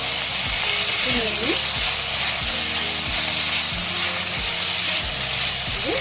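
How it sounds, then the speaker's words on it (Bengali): Chicken frying in a pan gives off a steady, loud sizzle and hiss throughout, with faint tonal background sounds underneath. "আর বেশি ভাজবো না বন্ধুরা, বেশি ভাজলে শক্ত হয়ে যাবে।"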